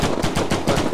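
Rapid automatic gunfire from the VR shooter Dimension Hunter, a fast rhythmic burst of loud repeated shots filling the whole moment with no talk.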